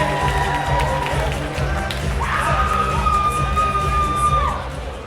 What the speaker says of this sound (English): Give it up for the bridal party. Give it up one time.